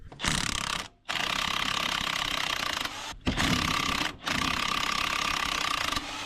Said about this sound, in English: I've just disconnected the gearbox mount.